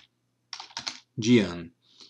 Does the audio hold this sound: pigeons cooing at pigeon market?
no